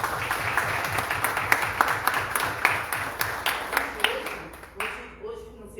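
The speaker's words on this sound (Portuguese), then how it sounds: "Uma salva de palmas para Jesus." A church congregation claps together in a steady, rhythmic beat, about two claps per second, with voices underneath, before the clapping stops abruptly near the end.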